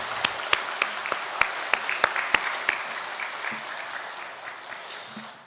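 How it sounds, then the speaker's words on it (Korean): Church congregation applauding during a Sunday worship service, starting with a few loud, distinct claps that grow into a soft, sustained round of applause and then fade out. "우리 마음을 담아서 우리 축하의 박수를 한번 보내면 좋을 것 같습니다."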